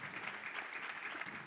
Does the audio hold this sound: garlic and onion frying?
no